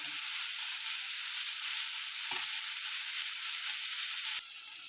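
Eggplant and tomato frying in oil in a pan as they are mixed, a steady close sizzling hiss with a brief stir knock midway and a slight drop in level near the end.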